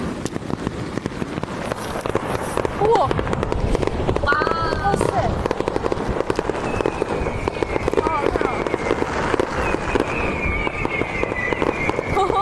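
New Year's Eve fireworks burst and crackle continuously in dense overlapping pops, loud and close, with whistling rockets rising partway through while a person exclaims in excitement over the barrage.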